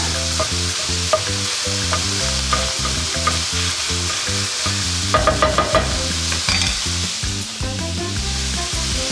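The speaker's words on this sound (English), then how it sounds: "You love that sizzle. Break it up and let it start browning." Ground meat sizzles loudly and steadily in a hot pan on high heat for browning, with a dense crackle broken by frequent scraping stirs and clattering utensil knocks, no talking.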